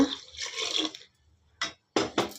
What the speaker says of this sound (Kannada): ತರಕಾರಿ ಬೇಯಬೇಕಲ್ಲ ಸ್ವಲ್ಪ ನೀರು ಹಾಕ್ಕೊಂಬಿಡೋಣ